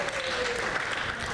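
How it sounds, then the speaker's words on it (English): An audience at a Saturday morning conference session claps in a brief, even wash that lasts just over a second. "You can clap if you want."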